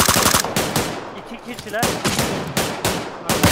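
Rapid bursts of automatic gunfire in a PUBG-style battle royale shooter, loud and close, several volleys separated by short gaps, with a voice speaking briefly between shots.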